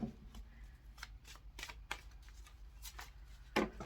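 A deck of cards being shuffled by hand during a card reading: soft, close riffling and flicking of cards in irregular bursts, with a sharper snap near the end and no talk over it.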